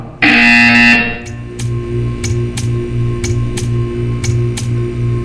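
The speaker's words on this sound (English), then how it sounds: "You will hear a buzzer." A loud electronic buzzer in the video game Portal 2 blares for about a second, then a steady rhythmic ticking and pulsing hum continue, with no talking.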